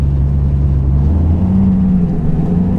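Turbocharged LS-swapped Camaro engine rumbling loud and steady up close, its low drone shifting pitch as the car pulls away.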